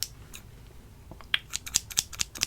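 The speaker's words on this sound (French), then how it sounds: "Je vais commencer par prendre mes petits ciseaux" Small scissors snip during a hair-cutting roleplay, giving a rapid run of sharp, crisp metallic snips that quicken toward the end, very close and clear.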